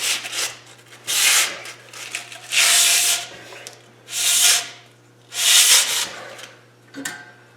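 Quick abrasive scuffing of car suspension parts, five distinct rasping strokes with short gaps between them, close and fairly loud, no talking.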